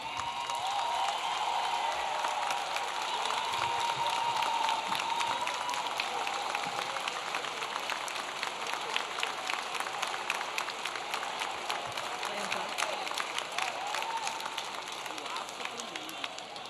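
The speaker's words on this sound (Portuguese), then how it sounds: "Eu peço que todos aplaudam o Wesley" Sustained applause from a large standing audience at a Teachers' Day celebration attended by President Lula, steady and enthusiastic throughout, with crowd noise blended in.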